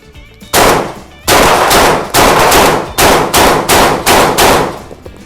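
A Saricam shotgun fires in rapid succession, about eight loud, sharp blasts close by, each with a short ringing decay, coming slightly faster toward the end.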